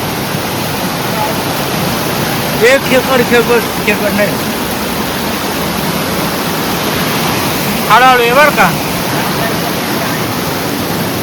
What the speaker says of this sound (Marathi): वाव किती मस्त धबधबा.